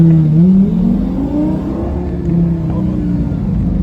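A Lamborghini Gallardo Superleggera engine revs up loudly and close by, climbing in pitch and then holding a sustained, throaty drone, with voices talking over it.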